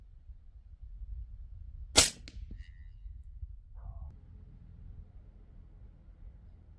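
A single sharp rifle shot from a Howa 1500 mini chambered in 300 Blackout rings out near the two-second mark against a quiet outdoor background, followed by faint rustling and a brief mechanical clink.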